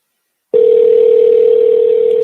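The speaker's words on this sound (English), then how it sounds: "you can hear it ringing" A telephone tone on a call cuts in after half a second of silence and holds as one loud, steady electronic note with no break to the end.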